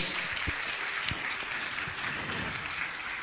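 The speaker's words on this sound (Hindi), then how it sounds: "जोरदार तालियों का सम्मान करें" Audience at a Jain religious gathering with pilgrims applauds in steady, even clapping that holds at a moderate, somewhat distant level throughout.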